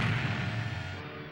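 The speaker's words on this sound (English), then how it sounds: "one of the Droid World cannons aimed at them and fired" A cannon blast sound effect from a Star Wars Droid World read-along story booms loudly from the start, its heavy low rumble fading out over about a second.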